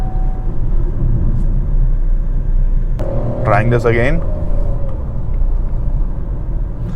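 Steady road rumble inside an MG Astor driving along a lane, with a tonal electronic warning chime partway through as lane keep assist engages; a person speaks briefly over it.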